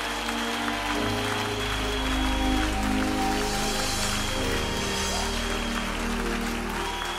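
A church congregation applauding loudly in praise, a dense, continuous wash of clapping with a sustained tone and faint voices underneath.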